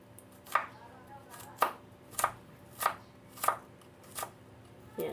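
A knife chops pounded garlic cloves on a board for creamy sopas, with about eight crisp, evenly spaced knocks close by and nothing else.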